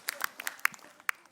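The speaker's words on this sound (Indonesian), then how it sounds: "Tepuk tangan Pak Ustadz Ahmad Khan" Audience at an Islamic lecture event gives scattered claps, several distinct sharp hand claps spread across a short moment, fairly faint and sparse rather than a full ovation.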